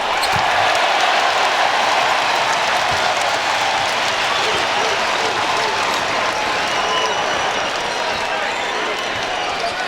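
Fans clap and cheer at a Texas versus Tennessee college basketball game, a loud, continuous wash of crowd applause filling the arena while a commentator talks over it.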